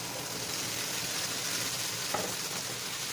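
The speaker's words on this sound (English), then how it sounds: "I'm just gonna add a little bit more oil. Okay, because I'm gonna add my meat back in here." Beef sizzling steadily in hot oil in a pan with onions, tomatoes and garlic for a Mexican beef stew, a soft continuous frying hiss with one brief scrape partway through.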